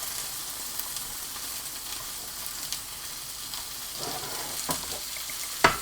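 Chicken schnitzels turning crispy as they fry in a pan, a steady soft hiss of hot oil with occasional crackles and a sharper pop or clink near the end, close and low in level, without voices.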